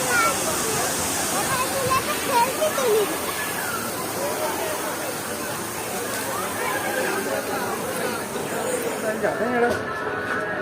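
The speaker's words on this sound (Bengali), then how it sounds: "দেখো এই জলের ফোয়ারাটা কতটা সুন্দর লাগছে।" Water fountain splashing in a busy public spot, a constant rushing spray that fills the background while people chatter and talk over it.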